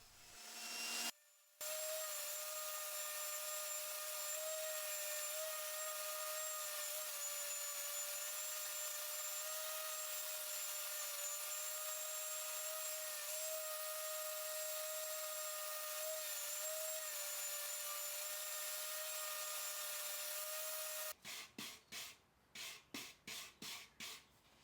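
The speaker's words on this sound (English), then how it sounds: "I used a foam sanding pad on my orbital sander, which prevented the sander from creating any flat spots." An orbital sander fitted with a foam pad whirs steadily on wood for a long stretch, a smooth high hum, then switches off and a few short rubbing strokes follow.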